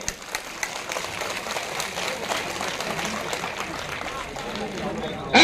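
A large crowd at a Congress party gathering claps to welcome Sachin Pilot, a dense, steady wash of applause with a few sharper claps near the start, while voices carry underneath.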